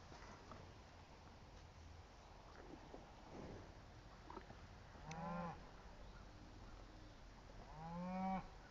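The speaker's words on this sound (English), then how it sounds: "So give some cows some apples." A cow on an orchard walk being fed apples gives two low moos a few seconds apart, the second longer and louder, amid faint outdoor background.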